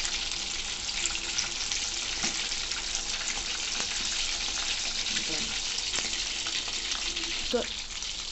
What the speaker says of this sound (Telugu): ఇవి మనం మళ్ళీ తిప్పుకొని ఇంకొద్దిసేపు వేసుకుందాం.